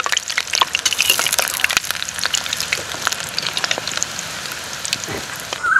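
Lauki kofta balls sizzle in hot oil in a kadhai, a steady bright crackling hiss with scattered pops, close and continuous without speech.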